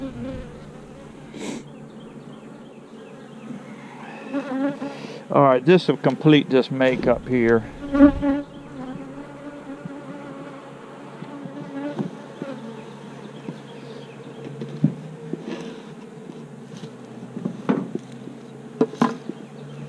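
Honey bees buzz steadily around a shaded hive in March, a dense drone running throughout with sharp knocks and clatter of hive equipment in the middle, while someone speaks briefly.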